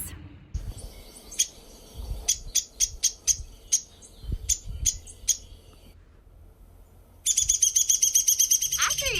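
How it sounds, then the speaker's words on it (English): A woodpecker calling in a series of sharp, repeated chirping notes, clear and fairly close, followed by a rapid rattling burst of calls. "First of all, what does a woodpecker's call sound like?"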